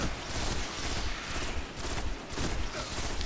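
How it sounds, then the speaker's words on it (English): A fusion rifle in Destiny discharging in repeated charged bursts, roughly four or five broad whooshing blasts in a regular rhythm, moderately loud with no talk over them. "Let's use our fusion rifle to take these guys out."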